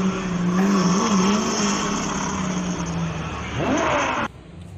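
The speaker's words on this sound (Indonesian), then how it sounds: "Ini mainan mobil sport. Kita jalankan juga teman-teman." A toy sports car runs with a continuous whirring, buzzing motor drone close by, steady for a few seconds before a rising sweep and an abrupt cutoff.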